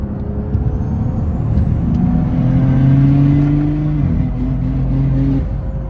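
A BMW 540i is driven at speed on a highway, its engine droning loud and steady from inside the cabin as the revs climb, drop briefly with a shift and rise again over heavy road noise.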